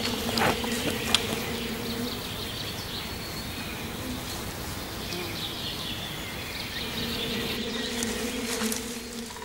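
Honeybees drone steadily around hives in a Russian wilderness apiary, a dense continuous buzz close by with no voices, holding level throughout.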